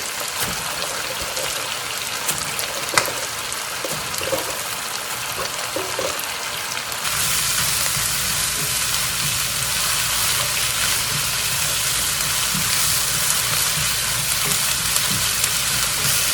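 Cabbage stir-frying in a hot pan for Korean black bean noodles, a constant close sizzle that thickens and grows louder about halfway through, with no talking.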